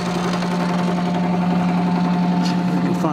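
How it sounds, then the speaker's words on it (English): A pulse motor driving a 3-phase coil output gives a steady, close electrical hum with a rapid rhythmic buzz that holds even throughout. "Pulse motor still running pretty smooth."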